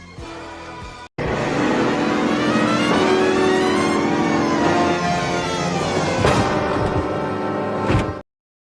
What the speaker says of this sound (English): I should have warned you that the car was a little loud.